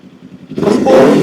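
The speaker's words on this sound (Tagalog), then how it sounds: "medyo iba yung tunog ng R9 dahil ito ay 500cc" Kawasaki 500cc motorcycle with an R9 slip-on exhaust, idling low and then surging into a loud, sustained rev that holds steady, heard up close without voices.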